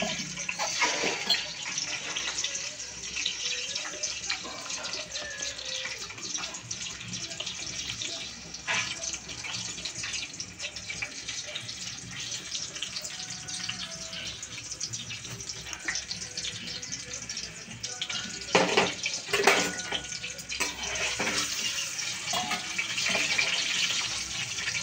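Peeled boiled eggs fry in hot oil in a kadai, giving a continuous, close, broadband sizzle that stays steady for the whole stretch and swells briefly near the end.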